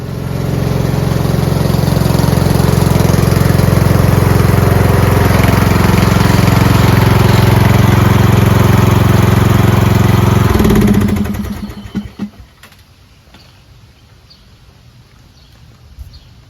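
A Craftsman lawn tractor with hydrostatic transmission runs loud and steady up close for about ten seconds, then the engine winds down and shuts off, leaving near silence with a few faint clicks.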